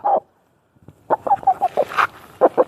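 Rooster or chicken kept for sale clucks in a quick run of short, sharp notes close by, after a brief call and a pause.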